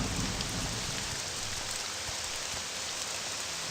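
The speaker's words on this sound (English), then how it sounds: "Still raining." Steady rain falls in the video game Morrowind outside the door to Balmora, a dense, even hiss that carries on without a break, with no voices.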